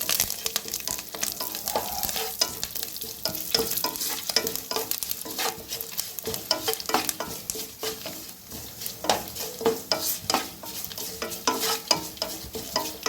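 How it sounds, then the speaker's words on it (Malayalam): Dried red chillies and curry leaves stirred in a frying pan for bread uppumavu, with a steady close sizzle and frequent scraping, clinking strokes of a spoon against the pan, no talking. "ഇതിലേക്ക് വറ്റൽമുളകും കറിവേപ്പിലയും ഇട്ട് നന്നായിട്ട് മിക്സ് ചെയ്യുക."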